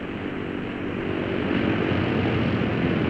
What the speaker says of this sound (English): And so on until all 4 engines have been run up and checked.